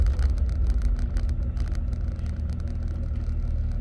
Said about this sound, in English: Kind of just has like a more of a rumble to it, just a deep, mellow